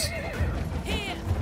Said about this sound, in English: Get on this horse